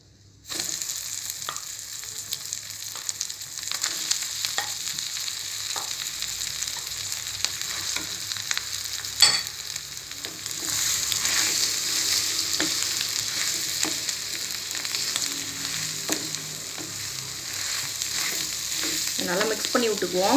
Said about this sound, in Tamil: நல்லா மிக்ஸ் பண்ணி விட்டுக்குவோம்.